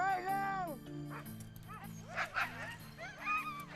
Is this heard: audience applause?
no